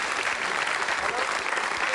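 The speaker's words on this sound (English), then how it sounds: "Oh, a round of applause" Studio audience applause during a radio phone-in comedy show, a dense, steady wash of clapping throughout the short moment, fairly loud and even.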